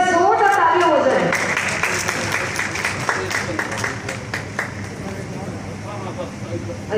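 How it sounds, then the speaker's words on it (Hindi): Audience applause breaks out at the inauguration of Ayodhya Parv at Delhi's Constitution Club, a dense roomful of clapping that starts loud and slowly tapers off, mixed with crowd murmur and a voice over it at the start. "एक बार जोरदार तालियां हो जाए।"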